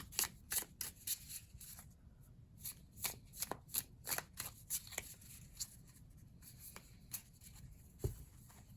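A tarot deck being overhand shuffled up close: quick bursts of crisp card riffling and flicking come in irregular clusters, with short pauses between them and no talking.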